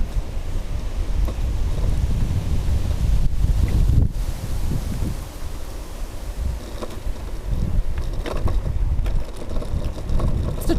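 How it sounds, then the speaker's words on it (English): Strong wind buffets the microphone throughout an evening ride, a dense, continuous roar with gusty surges and occasional knocks, loud and close with no talk. "So quite a lot of wind tonight."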